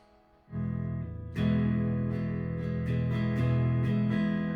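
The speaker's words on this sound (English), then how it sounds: "Major chords sound like this." A few bright major chords strummed on an acoustic guitar, each ringing out and sustaining, with quick strums between changes.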